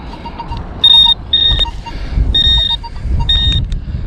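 A metal detector sweeping a coin-hunting dig site beeps in short high tones, four distinct bursts over a steady low buzz of wind and ground noise, close and fairly loud.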